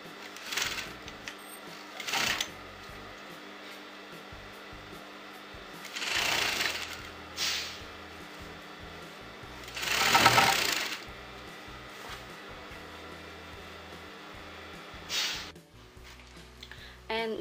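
A sewing machine stitches churidar fabric in several short bursts of rapid needle clatter, with quieter handling and shuffling between runs, heard up close with no talking.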